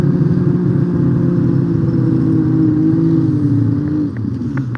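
A boat engine runs steadily on the Ohio River during a fishing outing, its loud, close drone holding a constant low rumble throughout with no voices.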